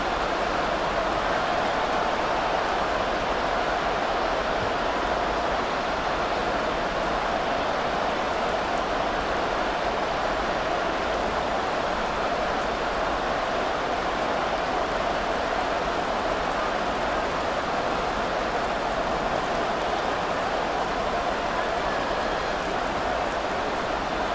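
Steady, dense rain hisses without a break through a Madden 24 video game broadcast of Dallas Cowboys vs Philadelphia Eagles, a constant even wash of noise with no speech over it.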